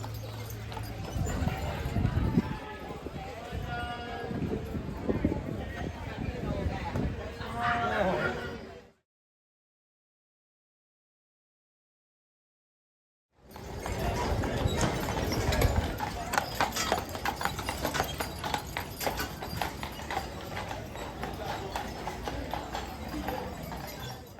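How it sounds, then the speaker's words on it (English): Horse-drawn cart hooves clip-clop steadily on a Mackinac Island street, close and loud, with voices talking over them. The clopping breaks off into a few seconds of silence, then resumes. "It's an island of horses, huh?"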